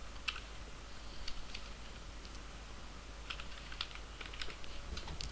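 Keys tapped on a computer keyboard while filling in a leave form, irregular bursts of light clicks at close range over a faint background hum.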